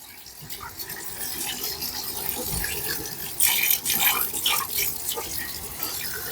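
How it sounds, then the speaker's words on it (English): Water runs steadily from a tap with a hissing splash, growing louder and more gushing midway as the stream shifts and spatters. "I'm directing the water"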